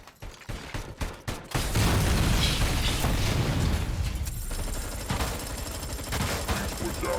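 ED-209 robot attacking in RoboCop: Rogue City: a few sharp shots, then a long dense roar of sustained gunfire and impacts that continues loud and unbroken, with a faint high tone near the end.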